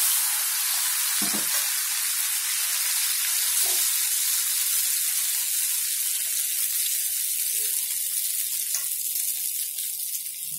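Ghevar batter poured into hot fat fries with a steady, close hiss of sizzling and bubbling that runs without pause, with a few faint clinks of a utensil along the way.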